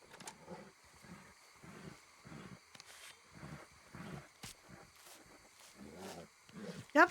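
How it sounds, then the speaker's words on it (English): An alligator in a video game lets out several low, rumbling roars in short bursts among ambient game sounds, with a voice talking faintly. "I just heard an alligator."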